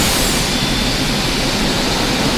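Jet engines warming up in a flight simulator video game produce a steady, loud, broadband roar that holds unchanged throughout, with no voices over it.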